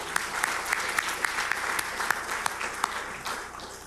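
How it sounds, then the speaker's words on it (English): Sustained audience applause for the distinguished speakers at an international forum keynote session, a dense, even wash of clapping from a large hall with a few sharper individual claps standing out. "let's give them another round of applause"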